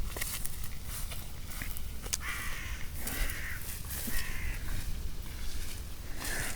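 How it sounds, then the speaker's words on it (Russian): Crows caw repeatedly, at a moderate distance, across an open island setting, the calls rising over a steady outdoor background with some nearby rustling. "Вороны только."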